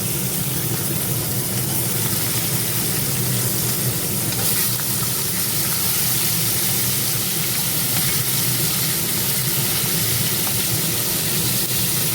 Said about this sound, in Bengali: এবার কাঁকড়াগুলো তেল আছে এই তেলে ভেজে নেব